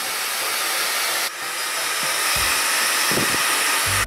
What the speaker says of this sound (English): Spent about half an hour trying to dry it out with a hairdryer.